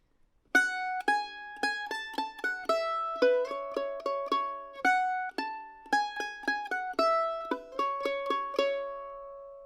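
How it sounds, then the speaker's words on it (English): A mandolin plays the first half of the B section of the tune "Pretty Red Lips" alone: a steady run of bright, close plucked notes with ringing sustain, unaccompanied and without any voice. "that first half of the B section will sound like this."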